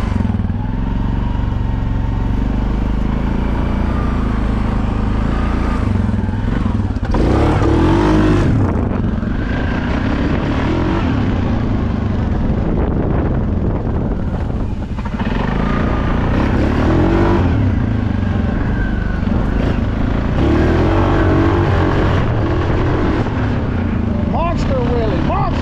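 Suzuki KingQuad 750 ATV engine held at partial throttle, a steady loud droning rumble for the whole stretch with small swells in revs, a voice talking over it throughout.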